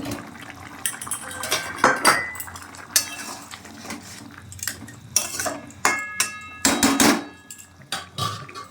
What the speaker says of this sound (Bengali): এই ঢাকনাটা দিয়ে দিই